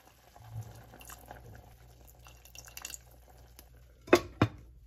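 Beef gyudon broth with soy sauce and mirin simmers in a pot, giving a faint bubbling and dripping texture, then two louder clanks near the end.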